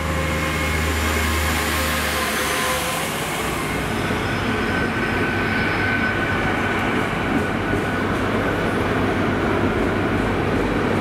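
A loud, steady rumbling train passing through Cardiff Central station, with metallic rail noise and a faint high whine, continuing throughout without pause.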